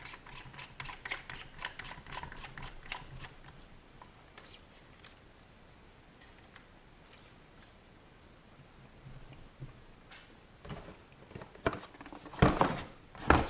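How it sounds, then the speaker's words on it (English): Rifle length buffer tube being screwed into a Ruger Precision Rifle, a quick run of ratcheting clicks at first, then quieter handling and louder clattering knocks at the end. "This is the rifle length buffer tube that we're going to need to install the PRS stock, and that just screws in."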